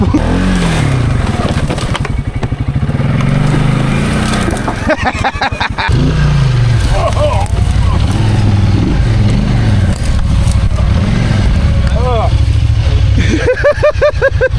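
A Can-Am off-road vehicle churns through swamp mud, its engine droning loud and close with surges of revving and sputtering wheel spin, voices talking over it now and then.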